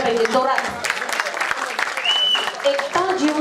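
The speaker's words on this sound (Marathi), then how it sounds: "जोरात टाळ्या" Loud applause from an audience after a folk song performance, a dense continuous clatter of clapping heard close and full, with voices talking over it.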